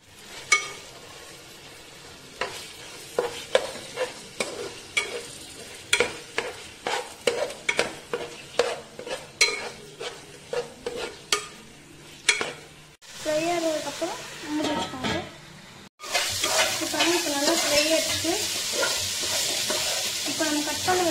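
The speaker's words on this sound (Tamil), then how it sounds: "சிக்கன் போட்டு நல்லா ஃப்ரை பண்ணுங்க." Chicken sizzles and fries in a pan for home-style egg fried rice, with repeated scraping strokes of a spatula stirring it in a steady rhythm, then louder continuous frying hiss toward the end.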